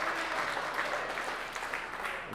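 Wrestling crowd at a women's wrestling event cheering and applauding steadily throughout, a dense, continuous roar of claps and shouts.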